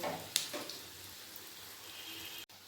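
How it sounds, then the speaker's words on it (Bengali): Fish egg fritters frying in oil over a low gas flame give a faint, steady sizzle and crackle, with one brief louder tap near the start. No one talks. "আমি গ্যাসটা কমে কমে ভালোভাবে ভেজে নেব"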